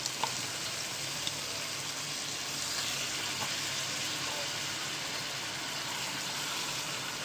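Chicken sizzling and frying steadily in a hot pan with onions and ginger paste for a traditional chicken curry, a loud continuous hiss with a couple of faint clicks near the start.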